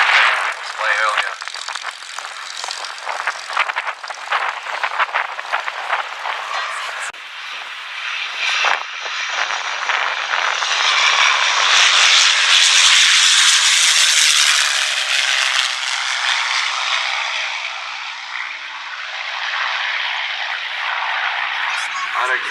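A Mustang warbird sweeps past at the Hunter Valley airshow, its piston engine roar building from a rattly approach into a loud sustained drone before easing off, with a crowd and announcer chatter early on.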